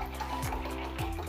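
Distilled water pours into lime juice in a faint, steady trickle with a soft liquid burble, heard alone and quiet throughout.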